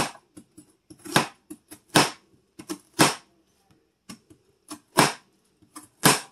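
A knife chops an onion on a cutting board in a series of sharp, close taps, some quick clusters and several louder single strikes spaced irregularly about a second apart.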